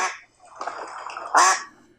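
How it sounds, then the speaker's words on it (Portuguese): A few nasal duck quacks, close and clear, the last one louder and longer than the rest. "É o pato, o som do pato."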